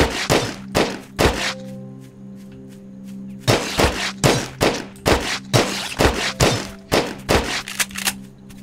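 Gunshots from a weapon in the video game Grav Reborn, fired at an enemy: a quick burst of sharp thunking shots, a pause over a steady hum, then a longer run of evenly spaced loud shots.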